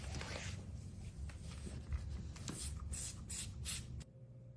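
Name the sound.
spray bottle spraying cleaner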